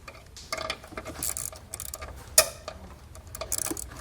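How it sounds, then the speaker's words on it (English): Socket wrench fitted with an 11mm socket loosening a stud while installing a towed-vehicle tail light wiring kit; a few scattered faint clicks and metallic taps, close by, with one sharper clack midway and no talking. "we can grab an 11mm socket"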